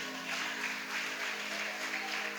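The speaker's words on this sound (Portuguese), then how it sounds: "Dê um aplauso ao Senhor nessa noite." Church congregation applauding during a worship service, a steady, dense wash of clapping that stays fairly even and moderately loud throughout, with a faint musical drone underneath and no speech.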